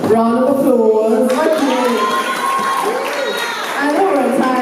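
An audience at a youth award ceremony breaks into applause and cheering, a steady crowd wash running throughout, while a voice speaks loudly over it.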